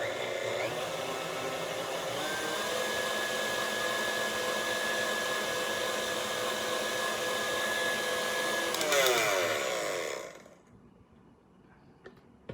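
An electric mixer whirs steadily while beating egg white bread batter made with egg white powder, a loud continuous motor whine that winds down and stops near the end, leaving quiet.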